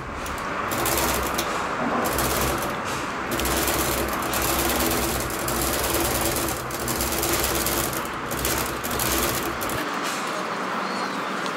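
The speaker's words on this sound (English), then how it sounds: "just bump it to your sewing foot and sew it down" A sewing machine stitches the seams of a corset belt, running in a steady, close whirring drive with brief pauses before stopping near the end.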